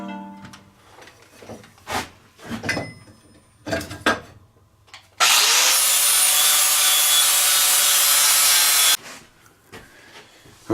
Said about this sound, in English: We're going to clean this up with a flap wheel.